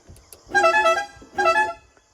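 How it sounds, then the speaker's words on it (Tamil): A car horn fitted to a modified Ashok Leyland Dost gives two loud, close blasts, the first longer than the second, with a short gap between them. "இந்த ஹார்ன் பார்த்தீங்கன்னா ஃபிக்ஸ் பண்ணியிருக்காங்க"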